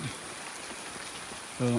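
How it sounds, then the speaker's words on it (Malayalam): Rain falls steadily in Idukki, Kerala, a continuous close patter of drops on surfaces, ending with a brief low rumble. "ഇപ്പോൾ മഴയാണ്ട് ആരംഭിച്ചു."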